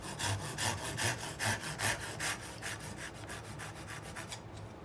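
An axe works green wood at the neck of a hand-carved spoon, making a quick series of rhythmic scraping strokes, close and steady, that thin out toward the end, with no voices.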